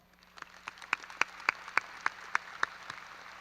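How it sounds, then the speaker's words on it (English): A graduation audience claps in a ceremony hall, the applause building from scattered hands into a run of sharp, evenly spaced bursts, moderately close, with no voices on top. "So let's give ourselves a big round of applause."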